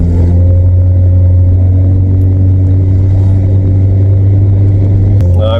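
An old abandoned VW Vento engine drones loudly and steadily under hard throttle, a deep, even tone that shifts abruptly near the end.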